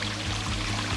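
Soy sauce poured onto a small watershed demonstration model, standing in for motor oil: a short, close, continuous liquid pour with a faint trickle and no talking.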